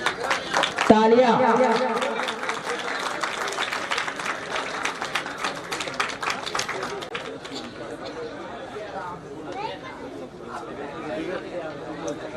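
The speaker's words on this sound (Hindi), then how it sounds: "तालियां" An audience at a Saraswati Puja alumni meet of a government polytechnic claps in a burst of scattered applause mixed with chatter, the clapping fading into crowd murmur and voices.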